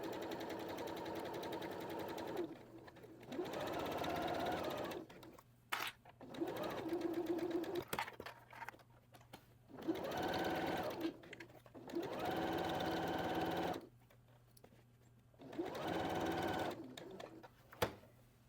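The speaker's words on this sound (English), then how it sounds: "we're going to sew starting at this corner using a 1/4 inch seam allowance" A sewing machine stitches a quarter-inch seam along the edges of a fabric dog bandana. It runs in several bursts of steady whirring, each a few seconds long, with short quiet pauses between them and no talking.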